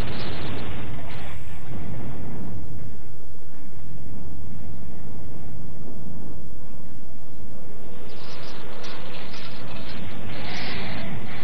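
A loud, sustained rumbling bomb blast aboard a ship, swelling and roaring, fading slightly before a hissing burst returns toward the end.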